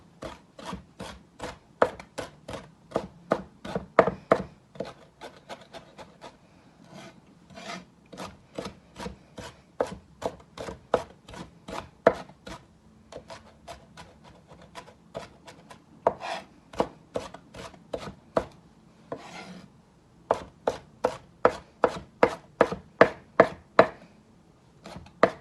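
Broccoli being chopped with a knife on a board for veggie tater tots, sharp close knife strikes in rapid uneven bursts with brief pauses, no voices.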